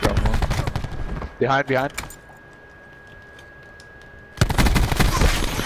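Rapid bursts of gunfire crackle loud and close in a video game ranked match, falling silent for a couple of seconds before erupting again, with a short spoken word between them.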